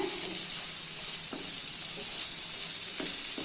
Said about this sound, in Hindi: इसको हाई फ्लेम पे अच्छे से मिक्स कर लेना है।